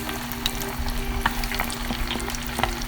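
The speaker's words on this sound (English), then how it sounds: "add our chicken to the oil" Chicken wings fry in hot oil, a close steady sizzle and bubbling with scattered sharp pops and crackles, fairly loud and alone without speech.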